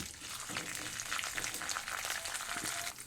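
Toor dal and dried red chilies fry in hot oil in a pan, giving a dense, steady sizzle with crackling pops and a few soft stirring scrapes, fairly faint and close, without any voices.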